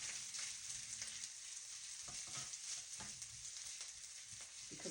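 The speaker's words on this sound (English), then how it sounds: "Because the whole wok is hot. And we want it to fry so that it's real fried rice." Chicken fried rice frying in a hot wok, a steady loud broadband sizzle throughout with a few soft scraping stirs, no talking.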